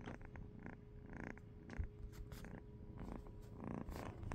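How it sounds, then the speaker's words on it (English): A small kitten purring close by, a low rhythmic rumble with soft rustling and small bumps around it. "You purring?"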